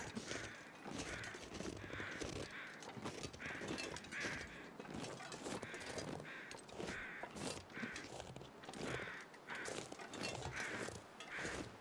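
Repeated harsh ptarmigan calls in The Long Dark video game, short bursts roughly every second, over a steady busy background of wind-like noise.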